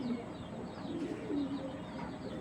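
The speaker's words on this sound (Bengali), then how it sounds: "এটা একবারে পুরান জাতের একটা চুইনা কবুতর" Several Chuina pigeons, an old pigeon breed, coo in low, throaty murmurs that overlap steadily, with faint chirps in the background and no voices.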